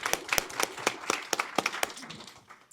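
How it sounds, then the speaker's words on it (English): A small panel discussion audience claps for a few seconds, sharp scattered handclaps that thin out and fade toward the end. "if we can give you a round of applause."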